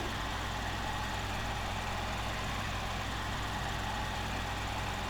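An Ursus tractor engine in Farming Simulator 15 idles at a steady, even drone, its deep rumble holding unchanged throughout with no talking.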